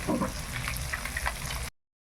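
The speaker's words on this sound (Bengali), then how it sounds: "মাছটা খুব সুন্দর লাল লাল করে ভেজে নিয়েছি" Fish frying in oil in a pan, a steady close sizzle with crackling bursts that runs for under two seconds and then cuts off abruptly to silence.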